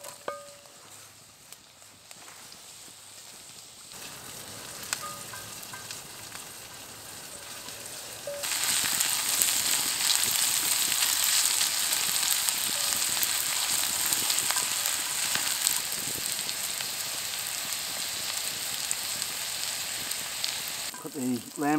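Carrots hitting a hot Dutch oven on a Firebox stove while lamb shank braises: a quiet start, then a loud, continuous sizzle bursts in partway through and keeps hissing steadily to the end.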